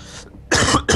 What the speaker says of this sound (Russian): Мой кашель.